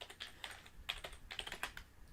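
A computer keyboard clatters with quick, uneven bursts of keystrokes, close and fairly clear, tapping on steadily without any voices.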